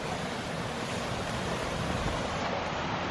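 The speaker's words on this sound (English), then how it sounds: "I can hear running water." A mountain stream rushing over rocks along a rough hiking route, a dense, steady broadband roar of running water filling the whole stretch without pause or voices.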